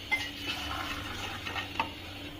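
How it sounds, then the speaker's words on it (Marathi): Coconut slices dry roasting in a pan, heard as a faint, steady rustle with light scrapes and taps of a spatula being stirred at close range. "आता त्याला पण आपल्याला कोरडंच भाजून घ्यायचं आहे."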